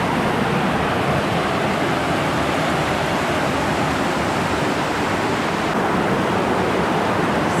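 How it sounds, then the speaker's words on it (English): Waterfall cascades at Short Springs, Tennessee, a dense, steady broadband rush of falling water that fills the scene continuously, loud and close, with no talking. "So many cascades"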